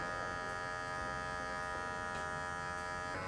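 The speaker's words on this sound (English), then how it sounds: "Kind of using the corners slightly, angling the clipper." Electric hair clippers angled through short hair during a textured mullet and taper cut, a constant close-up motorised buzz running the whole time, with no talk.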